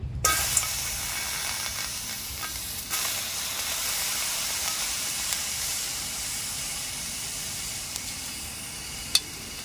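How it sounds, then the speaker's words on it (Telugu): Green chillies fry in oil in a pan for a continuous, broad sizzling hiss with occasional faint pops and clinks. "ఒక చిన్న దోసకాయ, దానికి కొన్ని అద్దపావని పచ్చిమిరపకాయలు వేయించుకుంటున్నా."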